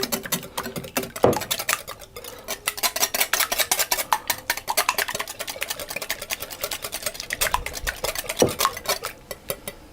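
A treacle tart mixture being whisked in a bowl, with quick rhythmic clinks and scrapes of the whisk against the sides, close and fairly quiet, running steadily with a few louder knocks.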